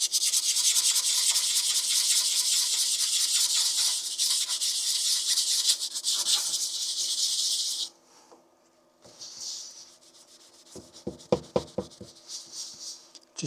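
Continuous close scratchy sanding on a 3D print smoothed with UV resin and baby powder for about eight seconds, then quieter intermittent rubbing and a few sharp taps and handling knocks.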